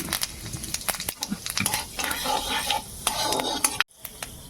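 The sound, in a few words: whole cumin seeds sizzling in hot oil for tempering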